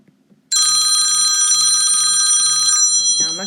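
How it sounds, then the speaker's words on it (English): A mobile phone rings loudly and steadily, a bright trilling electronic ring that starts suddenly and continues for about two seconds in a quiet room. "now my phone is ringing"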